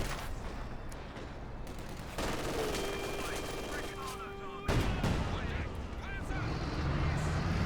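6-pounder anti-tank guns firing on a Panzer IV in a World War II strategy game, with sharp, loud shot reports and impacts over continuous battle noise, a sustained metallic whine midway, and a commentator's voice mixed in.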